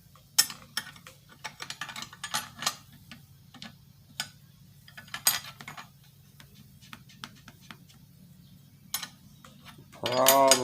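Hand tool cranking the crankcase bolts on a Husqvarna 385 chainsaw during assembly, a series of light irregular ratcheting ticks and clicks, close up, ending with a brief voice.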